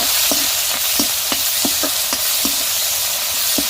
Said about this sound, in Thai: กระทะร้อนดีแล้วใส่พริกที่เราตำไว้ลงไปผัดให้หอมเลยจ้ะ